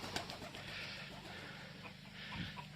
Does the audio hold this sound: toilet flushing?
no